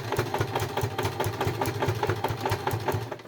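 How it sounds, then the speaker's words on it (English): A sewing machine stitches bias binding onto a fabric oven mitt, running at a steady fast rhythmic chatter close by with a continuous motor hum and no voices. "And you want to sew quite close to the edge, but bear in mind you want to try and catch the bottom layer"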